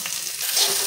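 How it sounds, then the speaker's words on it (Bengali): Onion, chopped ginger and chopped garlic sizzle in hot oil in a wok, a brief close hiss with light stirring crackles and no voices. "কড়াইতে পেঁয়াজ, আদা কুচো, রসুন কুচো দিয়ে দিলাম"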